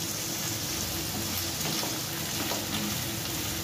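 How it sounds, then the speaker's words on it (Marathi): Onions fry over a high flame in a pan, a steady close sizzle and crackle filling the whole stretch without speech. "कांदा अगदी लाल होईस्तोवर आपण व्यवस्थित मोठ्या फ्लेमवर परतून घेणार आहोत"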